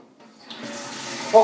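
Hot water runs from a tap into a bath for a home-brew beer kit, a short steady gush that starts abruptly and grows slightly louder.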